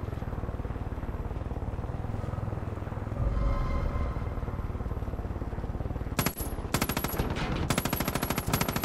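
Rapid automatic gunfire in the Far Cry 5 video game rattles loudly over a steady engine-like drone, with dense continuous bursts building toward the end and no talking.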